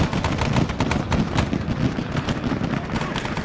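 Heavy .50 cal machine gun in an Arma 3 Vietnam setting, a dense string of rapid booming shots with battle noise and voices talking over it.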